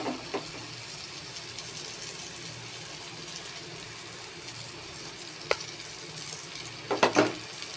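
Beaten egg frying and being stirred in a pan for a tadka recipe, a steady soft sizzle with occasional scraping clicks and a brief clatter near the end, no voices.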